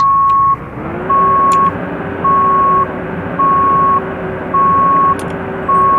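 A fire truck reverses in the Emergency Call 112 firefighting simulation game. Six evenly spaced, loud electronic reversing beeps sound over a steady low engine drone, with no talking.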